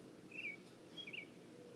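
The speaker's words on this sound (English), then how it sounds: "Go away, Blue Jay." A blue jay gives two short, harsh calls about half a second apart, faint and somewhat distant over low background rumble.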